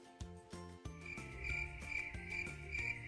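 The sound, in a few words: cricket chirping sound effect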